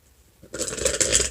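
A tarot card deck is shuffled vigorously after a quiet start, a close, loud riffling flutter of cards that runs continuously for about a second.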